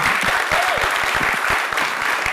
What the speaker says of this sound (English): Let's say this has to be the loudest round of applause